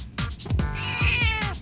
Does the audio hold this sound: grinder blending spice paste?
no